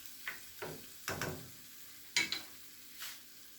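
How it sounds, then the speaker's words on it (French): Ground meat and vegetables cooking in a pan for a savory crustless tart, a faint sizzle punctuated by a handful of separate spatula scrapes and stirring knocks, close and fairly quiet. "Bien mélanger l'ensemble et laisser quelques minutes encore de cuisson"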